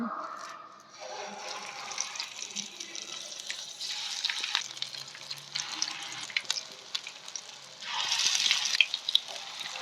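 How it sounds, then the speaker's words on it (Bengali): Mustard flower and lentil pakora batter frying in hot oil, a steady close sizzle with crackling bursts that swell louder near the end, with no talking. "সর্ষে ফুল দিয়ে ডাল দিয়ে যেটা আমি মিক্সড করে রাখছিলাম, এখন আমি সেটাকে ভাজবো"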